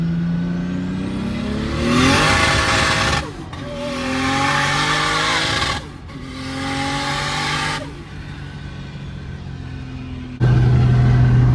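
A turbocharged 2JZ-swapped Nissan S13 on a partly wet surface, revving hard in several loud rising pulls with brief lifts in between, heard up close, ending on a steady lower engine tone.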